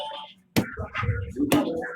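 Two sharp electronic alarm bursts from an electric bike's anti-theft system sound close and loud, with a jumbled warbling tone between them.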